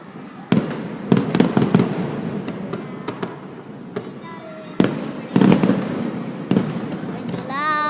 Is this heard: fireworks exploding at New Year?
yes